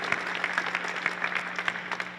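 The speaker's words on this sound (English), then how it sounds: "Give yourself a round of applause." Conference audience applauding, a dense, steady patter of many hands clapping close by throughout, with no voices over it.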